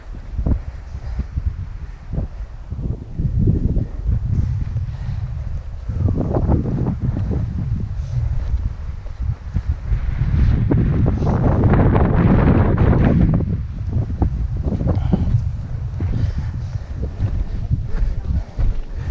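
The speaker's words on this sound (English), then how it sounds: "Windy up here." Strong wind on Mount Adams buffets the microphone in steady roaring gusts, swelling louder midway, with faint voices now and then underneath.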